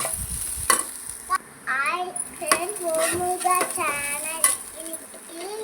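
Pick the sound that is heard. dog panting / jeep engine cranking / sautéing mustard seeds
sautéing mustard seeds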